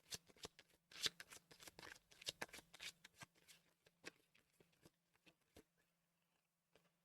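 Tarot cards shuffled by hand close up, a series of quick papery flicks and riffles in uneven bursts that gradually thin out and grow sparser, faint and with no talking.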